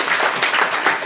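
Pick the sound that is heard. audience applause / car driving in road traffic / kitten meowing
audience applause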